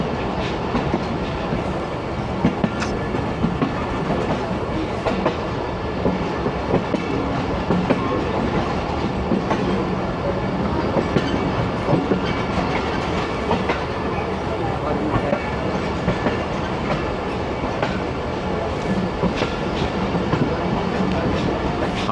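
The Awam Express passenger train rolls slowly into a station loop line with a steady rumble and rhythmic clickety-clack of wheels over rail joints, continuous and fairly close throughout.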